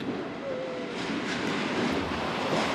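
A passenger train on the Cinque Terre coastal line of the Italian Riviera rumbles along in a steady wash of rail noise, with a faint wheel squeal, heard from on board and without talk.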